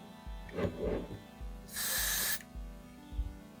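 An aerosol can hisses in one strong burst of about half a second, preceded by faint handling noises.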